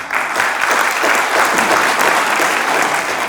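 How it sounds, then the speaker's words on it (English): Loud, sustained applause from a conference audience at the inauguration of a Down syndrome conference in a Raipur hotel hall, dense and steady clapping filling all three seconds without voices. "May I request all of you to welcome our self-advocates by giving them a really loud round of applause."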